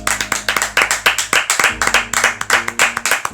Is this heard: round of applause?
yes